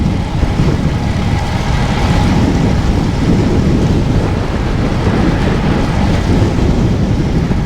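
Gusty wind buffets the microphone during a bike ride, a loud, continuous roaring rush of broadband noise with no break and no voices.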